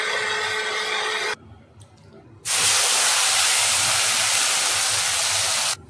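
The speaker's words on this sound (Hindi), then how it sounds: "तेज पत्ता, जीरा का छौंका लगा दिया।" Bay leaf and cumin tempering sizzling in hot oil makes a loud, bright hiss that drops briefly to a softer crackle, then surges back into a strong steady sizzle before cutting off, close up with no talking.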